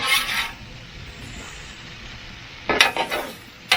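Two long spatulas scrape and clatter against a Blackstone griddle while stirring sizzling chicken fried rice, with a brief scrape at the start, a soft steady sizzle, then a quick cluster of metallic scrapes near the end.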